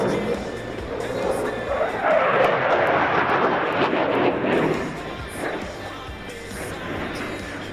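Eurofighter Typhoon fighter jet in a flying display at NATO Days 2025, a loud broad roar that swells as it passes and then fades into a distant rumble, heard under a commentator's voice.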